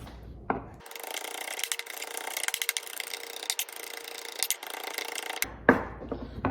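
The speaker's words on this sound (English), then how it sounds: "We're just gonna essentially chop it in both directions until it's nice and small." A knife chops cilantro on a cutting board in a steady, close run of rapid scraping cuts lasting several seconds, with a few louder knocks at the start and end.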